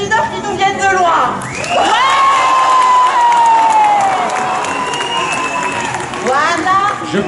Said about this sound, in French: je vais vous demander du bruit pour les seigneurs d'Anjou